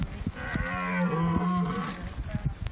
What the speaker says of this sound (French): Le brame se déclenche avec finalement la baisse des températures, mais aussi avec la baisse de luminosité.